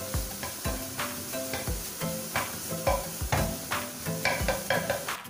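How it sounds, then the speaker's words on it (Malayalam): Carrot semiya payasam being stirred in a pan, with repeated scraping strokes at a steady rhythm, close and moderately loud, over a faint steady tonal hum and no talking. "ശേഷം നമുക്ക് വീണ്ടും ഇളക്കി ഒന്ന് റെഡിയാക്കാം."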